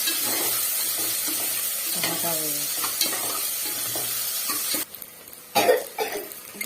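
Garlic and chili stirred into hot oil with whole spices for tomato rice, a steady sizzle broken by scraping strokes of the spoon, then a brief hush and a louder burst of frying near the end.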